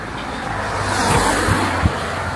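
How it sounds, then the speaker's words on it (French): A car on a road passing close by during an outdoor run, a steady broad engine and tire roar that swells and fades, loud and alone without talk. "la voiture"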